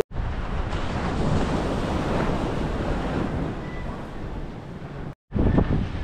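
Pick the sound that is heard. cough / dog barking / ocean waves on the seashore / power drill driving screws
ocean waves on the seashore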